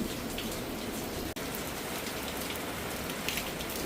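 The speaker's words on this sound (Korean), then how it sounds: "이렇게 또 비가 다시 또 쏟아지네" Heavy rain pouring down, a loud dense steady hiss of drops on surfaces throughout.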